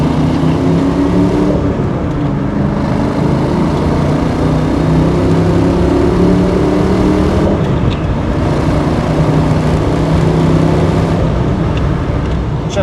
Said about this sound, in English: We'll do one more little hard pull here for you.